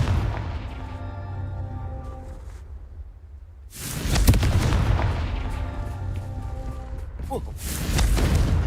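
A Confringo fire spell in the video game Hogwarts Legacy goes off in loud, booming blasts, a few rumbling explosions with a brief quiet gap between them and echoing tails, while a voice is heard nearby.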